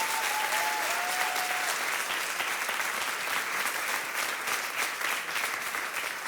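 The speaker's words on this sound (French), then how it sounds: "Est-ce qu'on peut l'applaudir bien fort?" Audience applause at a French-speaking public event: dense, sustained clapping from a sizable crowd, loud and even throughout, with a brief voice near the start.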